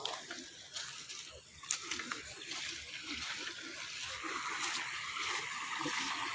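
A strong current of flowing water rushes steadily in the open air, a broad continuous wash with small splashes and trickles close by and no one speaking.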